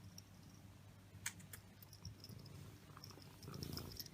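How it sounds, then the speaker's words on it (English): A pet cat purrs softly and steadily at close range, a low continuous rumble under quiet room noise with a few faint clicks. "she's so cute, she's purring"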